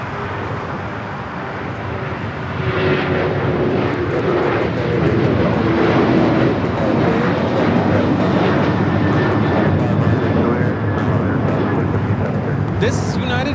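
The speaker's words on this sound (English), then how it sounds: "This is United Airlines 1293 taking off to Houston Intercontinental on the 737-900ER" A United Airlines Boeing 737-900ER jet roars loudly and steadily through its takeoff run at LAX, the engine noise swelling after a couple of seconds and holding strong, with a faint voice beneath it.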